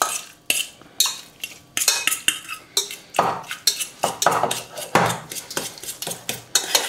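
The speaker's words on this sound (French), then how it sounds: "on va la briser comme ça, voilà. Avec une fourchette ou un autre ustensile." A fork repeatedly scraping and tapping against a dish while breaking up a salmon and lime mixture for a verrine, irregular close clinks and scrapes one after another, no talking.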